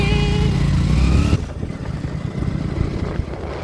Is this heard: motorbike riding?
yes